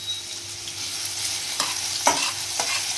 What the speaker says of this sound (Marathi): कांदा, शिमला मिरची, हिरवी मिरची. ओके, त्याला सॉटे तर कर.